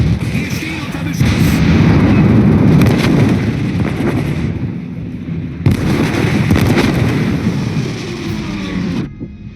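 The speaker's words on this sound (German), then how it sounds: "Wir stehen unter Beschuss." Naval gunfire in the World of Warships game while the ship is under attack: loud, dense booming blasts and rumbling explosions that run continuously, with one brief gap before another heavy salvo.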